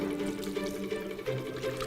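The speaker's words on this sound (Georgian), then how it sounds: "ეს ლობიოს დავასხავ წყალს და დავფარო" Water poured over beans in a pot, a steady close rushing and splashing of liquid that runs evenly through the whole short stretch, with no voices.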